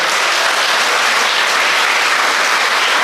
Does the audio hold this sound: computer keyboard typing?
no